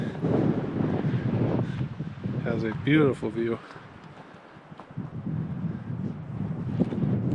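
Strong wind roars and buffets the microphone almost continuously at a lakeside campsite, briefly easing as a person speaks partway through.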